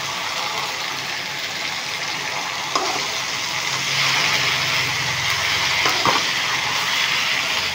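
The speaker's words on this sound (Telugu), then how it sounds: "ఇలా గోంగూర వేసుకొని కలుపుకోవాలి." Gongura leaves stir-fry in a hot pan, a steady loud sizzle with scraping stirs and a few sharp clinks from the spoon, heard up close and alone.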